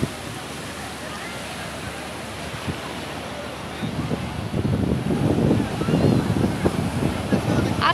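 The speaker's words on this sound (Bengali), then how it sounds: "আস্তে আস্তে ঢেউ বাড়ছে," Sea waves at Cox's Bazar beach during low tide wash in as a steady surf roar with wind, growing louder in the second half, with a crowd of people around.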